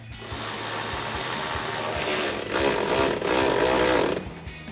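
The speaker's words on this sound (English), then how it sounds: "we'll tighten that back down with our 10mm socket on our ratchet" Ratchet with a 10mm socket tightening a lower bolt on a 2021-2024 Ford Bronco tail light, heard as a close, steady run of mechanical clicking and whirring over a noisy background.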